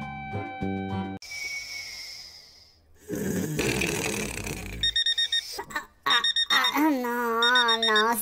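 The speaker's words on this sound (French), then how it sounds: "C'est le réveil." An alarm clock rings in bursts of beeping tones among electronic effects and a snoring or breathing noise, loud and close, with busy synthetic sounds layered around it.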